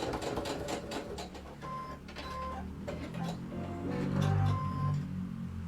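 Sewing machine skipping stitches, running in uneven bursts, its needle tapping rapidly with irregular catches and stumbles, fairly close, no talking.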